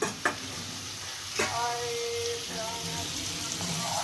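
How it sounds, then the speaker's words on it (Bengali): Fried potato and brinjal stirred into a simmering curry of mourola fish, a steady close sizzle with soft scraping knocks from the spoon. "বেগুন আলু এগুলো মিশিয়ে দিলাম"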